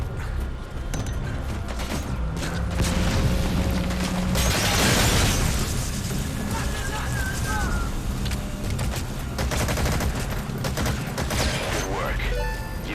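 Gunfire in the video game Metal Gear Solid V: The Phantom Pain, bursts of shots and booms running under a dense, busy game mix with someone talking over it.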